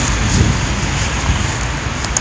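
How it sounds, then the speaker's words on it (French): Cold wind buffets the microphone outdoors in Berlin, a loud, steady rumbling roar with small gusting swells and no voices. "Il y a un vent froid."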